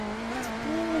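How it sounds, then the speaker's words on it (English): BMW race car engine in the iRacing video game, a throaty steady drone at high revs that rises slightly near the end, heard alone for a brief moment. "It's a throatier sound in the BMW"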